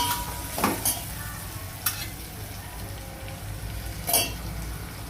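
Tomatoes with a pinch of salt sizzle in a pan for a capsicum dish, a steady close fry broken by three sharp spatula scrapes as the pieces are stirred.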